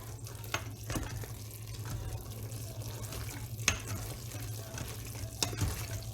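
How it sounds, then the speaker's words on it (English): A spoon stirs a pot of liquidy Instant Pot spaghetti, giving soft wet mixing and sloshing under a steady low hum, with a few sharp scrapes or clinks against the pot. "now we are going to go ahead and take our spoon and you're going to mix everything together"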